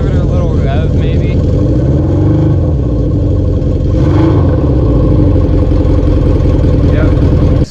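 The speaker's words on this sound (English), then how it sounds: "Give it a little rev," A motorcycle with a faulty battery charging system runs loudly up close. The engine idles steadily, then gets a small rev partway through, and a person talks over the engine noise.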